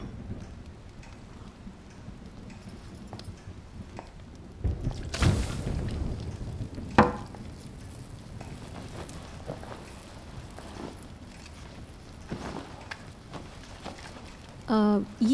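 Steady rain patters throughout, with a loud close crackle of disturbance midway and faint voices murmuring in the background.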